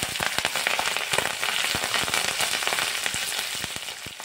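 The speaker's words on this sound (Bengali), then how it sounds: "তেলটা গরম হয়ে গেছে। এখন ফোড়নে দিয়ে দেব রাঁধুনি, কাঁচা লঙ্কা চেরা" Radhuni seeds and slit green chillies sizzle in hot mustard oil in a pan. The frying hiss is steady and close, broken by dense spitting crackles and pops, with no talk.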